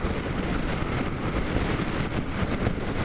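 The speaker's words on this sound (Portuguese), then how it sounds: "O vento tá tão forte, tá empurrando os carros" Strong wind roars across the microphone during a ride on a Honda XRE 300 motorcycle, a dense, steady buffeting rush that fills the sound without letup.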